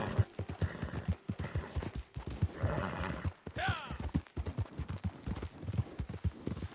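Horse hooves clip-clop in Red Dead Online over a busy game mix, with someone talking over much of it and a brief whinny-like sweep partway through.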